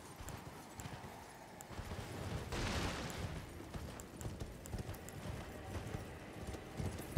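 Horse hooves clip-clop at a steady gallop while riding in the game Elden Ring, a quiet rhythmic patter with a brief burst of rushing noise partway through.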